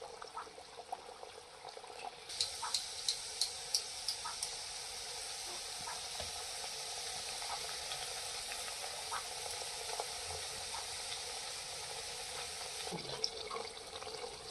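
Konkani kombdi vade, chicken-style puris, fry in very hot oil with a steady, even sizzle and bubbling hiss, with a few sharp clicks and taps from a utensil near the start.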